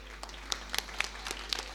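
Scattered clapping from an audience at a folk song and dance programme at the Kumbh Mela, a thin run of separate sharp claps rather than a full ovation.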